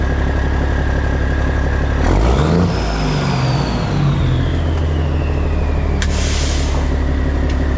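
Vehicle engine revving loudly through aftermarket exhaust pipes, a sharp rise around two seconds into strong low rumbling bursts that settle back to a steady idle rumble, with a brief hiss near the end.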